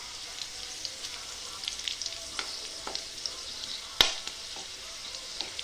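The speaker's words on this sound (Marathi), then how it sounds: "लसूण तेलामध्ये छानपैकी फ्राय करून घ्यायचं" Garlic frying in oil in a pan, a steady soft sizzle with faint scattered crackles and one sharper clack near the end, no voices.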